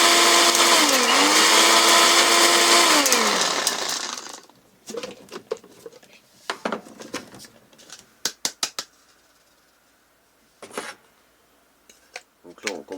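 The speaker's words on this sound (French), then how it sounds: "à chaque étape, je vais remettre en route le mixeur" Kitchen blender whirring loudly and steadily as it mixes a liver-flour carp bait boost, its pitch dipping and rising before cutting off, followed by scattered clinks and handling noises of the bowl.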